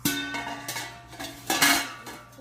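A stainless steel strainer insert from a Princess House cookware set clanks and scrapes as it is handled, giving several short bright metallic knocks spread unevenly across a couple of seconds, close and moderately loud.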